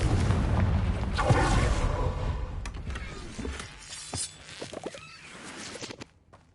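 A Confringo fire spell explodes in the Hogwarts Legacy video game, a loud booming burst with rumbling low end that fades over several seconds, followed by scattered smaller crackles and impacts.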